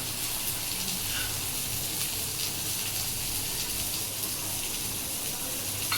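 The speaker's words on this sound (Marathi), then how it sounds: "थोडंसं आता ग्रेव्हीसाठी मी थोडं पाणी ॲड करेन याच्यामध्ये." Water is poured into a pan of chicken curry to make gravy, giving a steady, even rush of liquid at moderate volume that runs unbroken for the whole stretch with no talk over it.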